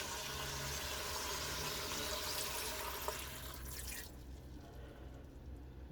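Beef broth poured into a chili pot, a steady splashing liquid pour close by that thins out and fades toward the end, with no talking.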